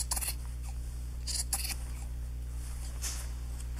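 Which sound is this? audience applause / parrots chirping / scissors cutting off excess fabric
scissors cutting off excess fabric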